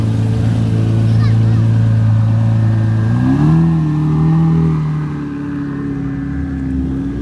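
Liberty Walk Lamborghini Murcielago with a 1,200-horsepower twin-turbo engine at an exotic supercar rally and car show, a loud close drone that rises in pitch as it revs, then eases off, while someone talks over it.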